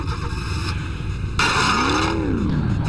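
Car driven by a bear in Enviro-Bear 2000, a steady engine drone that swells louder partway through, with a rising and falling whine like revving or tyre squeal.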